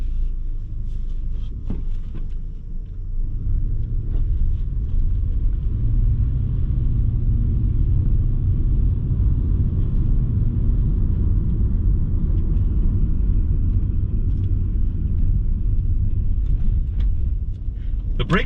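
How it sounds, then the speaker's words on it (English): A 2001 Subaru Outback Sport with 27k miles drives down the road, heard as a continuous low engine and road rumble from inside the car that rises slightly after the first few seconds and then stays steady. "2001 Outback Sport. Let's go for a drive."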